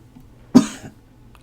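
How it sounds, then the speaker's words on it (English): A single short cough bursts out in a quiet room, sharp at first and then trailing off within about half a second, with near silence before and after. "I had just a little coughing fit."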